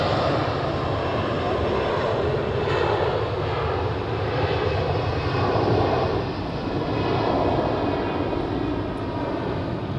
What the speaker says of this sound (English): the Swiss A330 is departing to Mumbai